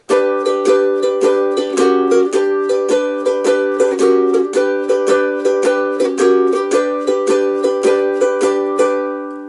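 Bright ukulele chords from a song strummed in a steady, lively rhythm, each stroke ringing out clearly and close, with no voices.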